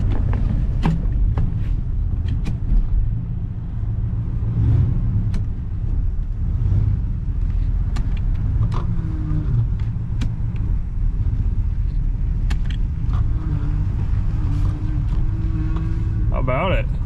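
The engine of a 1966 Pontiac Grand Prix barn find rumbles steadily as the car is driven on the road, a low, loud drone under occasional clicks and knocks, with people talking over it.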